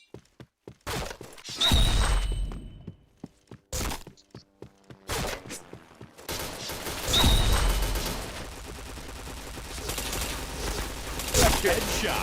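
Gunshots ring out in a shooter video game, with single sharp cracks at first and then longer, denser bursts of firing. It is loud and close, with brief quiet gaps between volleys.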